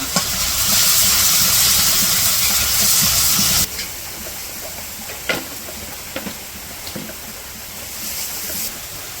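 Ginger-garlic paste, turmeric, chili and salt hit hot oil in a pan in a village kitchen on a rainy day, giving a loud, dense sizzling hiss that drops to a softer crackle after a few seconds, with occasional light clicks.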